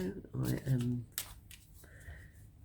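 A deck of cards being shuffled during a tarot or oracle reading, heard as quick riffling bursts alongside a speaking voice at moderate loudness.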